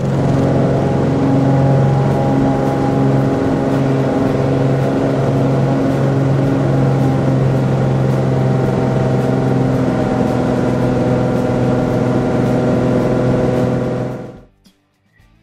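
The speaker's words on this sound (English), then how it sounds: "I gotta talk really loud because it's very loud in the airplane" Loud, steady engine drone fills a small airplane cabin in flight over a Colorado wind farm, a constant unbroken roar with strong low hum lasting throughout before cutting off abruptly at the end.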